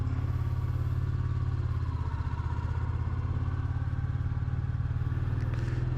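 A Royal Enfield Classic 350 motorcycle rides at night, its single-cylinder engine thumping in a steady, loud rhythm close by. The throb holds constant throughout, with no talking.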